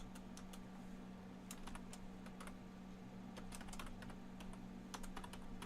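Computer keyboard keys clatter in quick, light bursts during a Blender editing session, including a backspace press, faint and close with irregular clusters of taps over a low steady hum.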